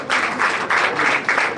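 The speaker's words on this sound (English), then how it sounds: "Please, can we give him another round of applause?" Audience applause at a football law moot court event fills the room, a dense, steady wash of many hands clapping throughout, fairly loud and close.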